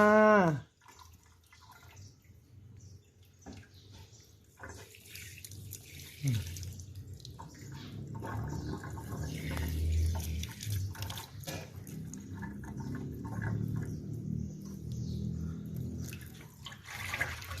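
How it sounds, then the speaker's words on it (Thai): Tap water runs and drips softly into a sink while baby bottle nipples are washed, a faint, uneven trickle and splash that continues throughout, with light handling sounds and no clear talking. "จะล้างจุกก่อนใช่ไหม"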